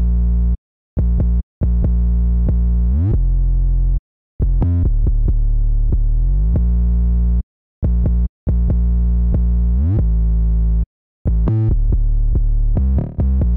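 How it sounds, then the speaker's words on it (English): Deep, heavy 808 bass notes from a pluggnb beat play alone and loud, sustained tones with gliding slides between pitches, broken by short gaps of silence. "As of the 808s."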